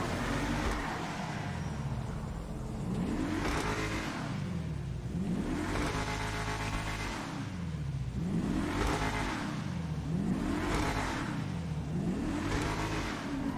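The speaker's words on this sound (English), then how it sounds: "now we're just gonna go in here and we're just gonna rev it" Fully upgraded stock super car in Grand Theft Auto 5 revving repeatedly, engine pitch climbing and falling in about five even sweeps, loud and steady with exhaust pops and no talk.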